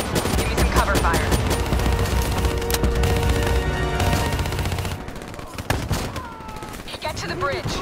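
Rapid gunfire from Call of Duty Black Ops 3, dense bursts of automatic shots and scattered single cracks, loud and close, thinning out toward the end with game voices talking over it.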